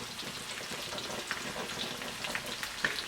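Cornstarch-coated chicken pieces fry in hot oil for a stir-fry, giving a dense, crackling sizzle with scattered pops, close and continuous.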